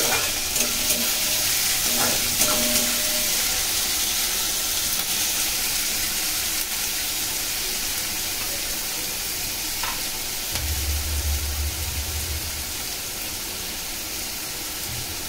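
Chopped onions fry in a pan until lightly reddish, giving a steady close sizzle with occasional stirring scrapes, no talking over it.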